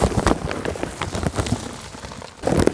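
Rain falling outdoors over flooded apple snail breeding ponds, a steady broadband patter throughout with a louder burst near the end.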